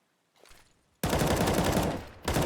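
Rapid automatic gunfire is sprayed through smoke in Counter-Strike. A faint shot comes first, then a loud sustained burst of shots follows, breaks briefly, and starts again, with no talk.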